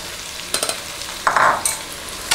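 Chicken pieces with a couple of spoons of yogurt are stirred in a pressure cooker for Kerala biryani: a low sizzle broken by quick scraping clicks from the spoon.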